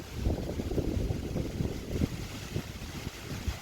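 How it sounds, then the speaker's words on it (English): Strong wind gusting steadily and close to the microphone ahead of an approaching storm over a garden, with buffeting rumble and intermittent harder blasts throughout. "Can y'all hear that wind?"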